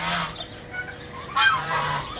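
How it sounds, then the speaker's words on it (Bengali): Geese, Chinese geese and turkeys on a rooftop call loudly and close, with repeated overlapping honks and squawks in uneven bursts. "রাজহাঁস, চীনা হাঁস, আবার টার্কি মুরগিগুলো ওদের চিল্লি এই দেখেন অবস্থা, দেখেন শব্দ শোনেন"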